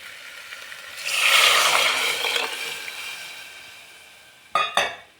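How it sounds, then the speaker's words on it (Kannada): Water poured into a pan of fried masala for menthya pulao sets off a hissing sizzle that swells and slowly fades, followed by two quick metallic clinks of a utensil against the pan. "ಈ ಟೈಮಲ್ಲಿ ನೀರು ಹಾಕ್ಕೊಳ್ಳೋಣ"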